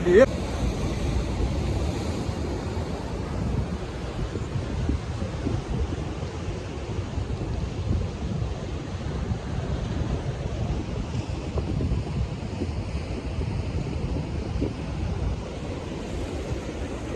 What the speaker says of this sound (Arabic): هنا الخوت راه تيطيح ليه الماء فهمتي، هنا راه تيكون بالماء